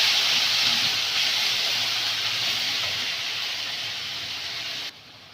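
Spice paste of ground chilli, turmeric, cumin and onion frying in hot oil in a wok, a loud steady sizzle and hiss that fades slightly before cutting off abruptly near the end.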